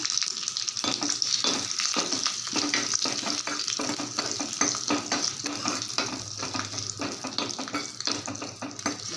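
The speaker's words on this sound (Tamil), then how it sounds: "நல்லா பொரிய ஆரம்பிக்குது கொஞ்சமாக ஜீரகம் போட்டுக்கலாம் ரெண்டு பச்சை மிளகாய் நடுப்பரை கீறிட்டு இதில் போட்டுக்கிறேன்" Cumin seeds and slit green chillies fry in hot oil, giving a steady, close crackling sizzle with repeated sharp pops and spatters throughout, with no voices.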